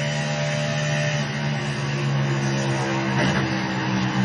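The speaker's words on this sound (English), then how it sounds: "You hear the car hitting those bumps." A race car engine drones loudly and continuously as the car runs over track bumps in the iRacing video game, a steady, slightly wavering mechanical tone.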